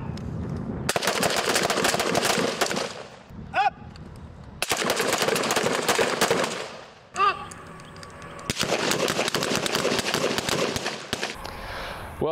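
Rapid bursts of gunfire aimed at steel targets in a shooting competition, loud and close, coming in three long dense volleys separated by short pauses, with brief shouts between them.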